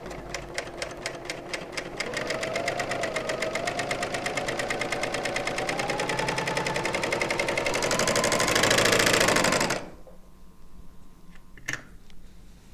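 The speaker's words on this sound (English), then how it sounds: "I do want a 4-thread basic overlock, and we'll give it a go and see what happens." A Bernina L890 overlocker stitches a 4-thread overlock seam, its rapid even mechanical ticking running steadily and loud for about ten seconds, speeding slightly before it stops abruptly, followed by a faint click.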